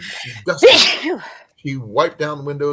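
A person sneezes once, sharp and close, in the middle of casual conversation, with talking before and after it.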